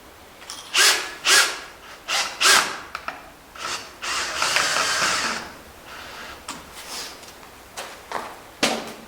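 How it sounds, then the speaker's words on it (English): Ratchet driving screws into a wooden skiff hull, repeated loud close bursts of clicking ratchet strokes with short pauses between, one longer sustained stretch midway, no talking. "I'm going to get those two screws ready. Get them started, but not all the way through."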